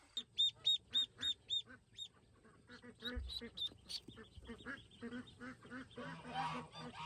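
Ducklings call in a quick series of high, bright peeps and quacks, repeated several times close by, with faint background sounds underneath.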